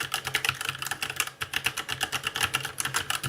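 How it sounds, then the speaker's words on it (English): Fast, steady typing on a Redragon K556 Devarajas mechanical keyboard gives close, crisp key clicks in a continuous rhythm with no talking. "This keyboard sounds nice."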